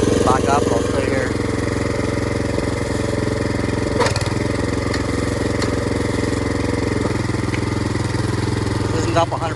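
A Princess Auto gas powered wheelbarrow's small engine runs steadily and loudly close by, with a continuous throbbing drone and a few faint knocks over it.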